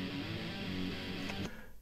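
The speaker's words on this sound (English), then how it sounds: "There were two guitars. Sounds like this." Two thrash metal guitars, recorded with an SM57 and a Rode NT5 blended together, play a thick, distorted rhythm that is sustained, dense and fairly quiet, then cuts off abruptly near the end.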